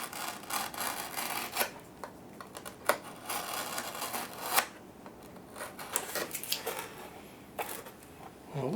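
Material being filed or sanded away from the elevator of a model F4 Phantom aircraft, a series of close, irregular rasping strokes with brief pauses between them.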